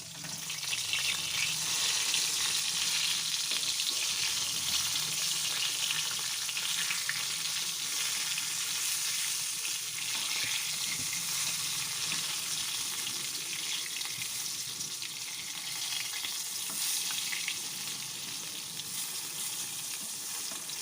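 Hot oil sizzles around frying eggplant in a constant, close, fairly loud hiss that holds steady for about twenty seconds, with faint crackle bursts and no talking.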